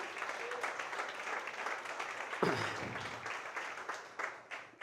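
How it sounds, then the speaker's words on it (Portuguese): A church congregation at a family worship service applauds, a sustained, fairly quiet wash of many clapping hands that fades slightly toward the end, with faint voices underneath. "Dê uma salva de palmas ao Senhor, amém?"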